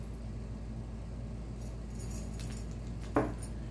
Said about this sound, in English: So there's my keys. I'm gonna put those in my pocket.